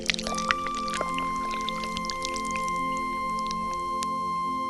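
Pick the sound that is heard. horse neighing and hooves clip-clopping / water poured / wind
water poured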